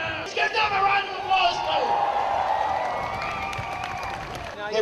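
A large crowd at the Aotearoa Is Not For Sale protest in Auckland claps and cheers with scattered whoops, a continuous wash of applause with voices rising above it.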